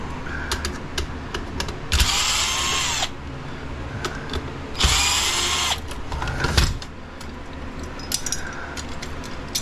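A power drill backs screws out of a parking lot light ballast, with two louder whirring bursts and shorter buzzing spurts in between, plus light clinks of handling the metal fixture.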